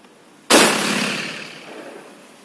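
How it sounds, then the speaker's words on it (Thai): A single shotgun blast fired at about 20 metres, a sharp loud crack that decays into a rolling outdoor echo over roughly two seconds. "เดี๋ยวครูจะลองยิงเลยที่ระยะประมาณ20เมตรนะครับ"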